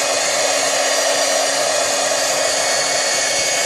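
A hair dryer blowing steadily close by to dry sprayed inks on a stencil mask, a loud, unbroken whooshing whine with a constant pitch and no talking.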